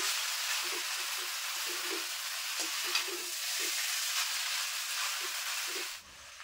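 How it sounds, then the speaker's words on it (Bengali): Egg chowmein noodles with vegetables stirred in a pan, Bengali style, a constant hiss of frying under soft repeated scrapes and shuffles of the spatula, ending abruptly. "তো সবজির সঙ্গে খুব ভালোভাবে মিশিয়ে নিচ্ছি"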